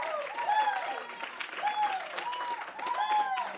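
Audience at a Dartmouth startup pitch event applauding after winners are called up, steady clapping with scattered cheers and whoops, fairly close and continuous throughout.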